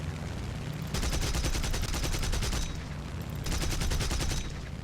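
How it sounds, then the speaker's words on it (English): Aircraft cannons firing in War Thunder, two long rapid bursts of rhythmic gunfire over a constant loud engine drone. "Nice hit with the cannons."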